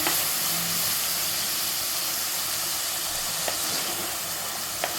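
Ground tomato paste hits hot oil in a clay pot and sizzles with a loud, steady, hissing fry, close by, with a few faint clicks and no talk.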